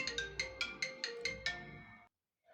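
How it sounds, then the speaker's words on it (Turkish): Mobile phone ringtone playing a quick run of bright, repeating chime notes for about two seconds, then cutting off, with no talking. "Telefonum çaldı arkadaşlar."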